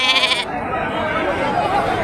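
Young lambs and sheep, three to four months old, bleating at a livestock market, several loud nearby bleats at the start over the background of a busy crowd with people talking.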